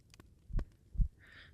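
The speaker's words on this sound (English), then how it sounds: "That's my heartbeat." Two soft, low heartbeat thumps about half a second apart, heard close against a chest in a cold, snowy setting, followed by a faint high hiss.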